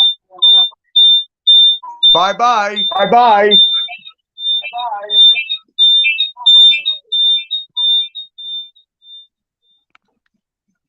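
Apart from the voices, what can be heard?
electronic beeping alarm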